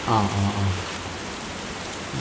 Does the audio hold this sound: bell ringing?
no